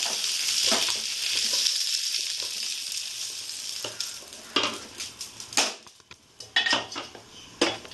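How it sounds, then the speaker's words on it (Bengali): Patol (pointed gourd) fries in oil with a continuous sizzle that fades toward the middle, then gives way to a run of sharp spatula clacks and scrapes against the pan. "পটলটাকে আমি ভেজে নামিয়ে নেব"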